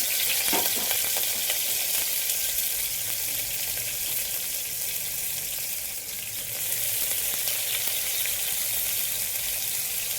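Green chilies, garlic and onion fry in a pan with a continuous, fairly loud sizzle that holds steady for about ten seconds, with no talking.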